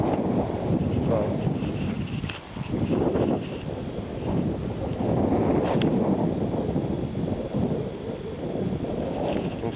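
Wind gusting outdoors around a horse training area, a loud rumbling buffet on the microphone that surges and eases in waves, close and constant.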